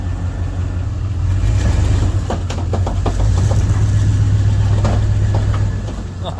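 A car engine drives forward out of a ditch, a steady low rumble that holds throughout with a few brief clatters and knocks over it, fairly loud and close, no talk.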